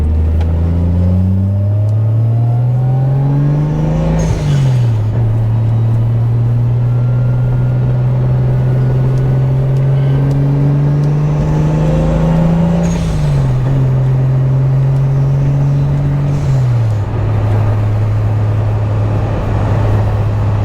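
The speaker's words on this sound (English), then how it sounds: "Turbo noises are good for the soul." A Toyota Supra MK3 turbo drives on, its engine droning loud and close as it pulls through the gears, pitch climbing steadily then dropping at each shift, with turbo whoosh and spool noises layered over the engine.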